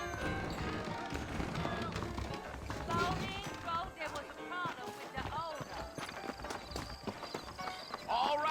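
Horse hooves clip-clop in a quick, uneven rhythm while voices talk over them, with game music and effects in the background, in Red Dead Redemption.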